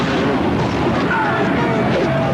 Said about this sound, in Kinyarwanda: Dore amasasu kabyara we.